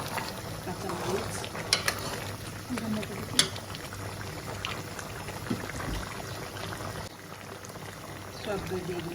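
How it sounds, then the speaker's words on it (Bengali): Sour yogurt added to mutton rezala cooking in a pot: a soft continuous bubbling simmer with faint pouring and stirring sounds and a few light clinks, moderately quiet, no talk. "টক দই দিয়ে দিলাম"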